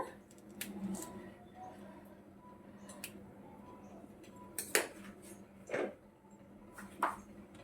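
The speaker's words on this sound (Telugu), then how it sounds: "పన్నీర్ కోసేద్దాం. ఇది పెద్ద ముక్క కదా" A large block of paneer is sliced with a knife in a home kitchen, giving soft cutting sounds with a few sharp clicks of the blade meeting the board, close and fairly quiet.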